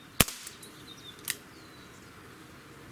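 A single sharp crack from a Gamo PR-776 air pistol near the start, followed by a fainter click about a second later, then quiet room tone.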